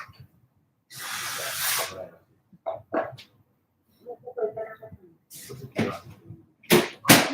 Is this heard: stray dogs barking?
yes